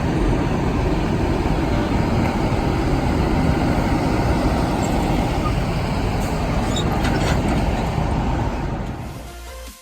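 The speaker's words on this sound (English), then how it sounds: "There's trucks driving around making too much noise." Trucks driving around nearby make a loud, continuous roadway rumble of engines and tires, a heavy steady wash of traffic noise that holds for most of the stretch before easing off at the end.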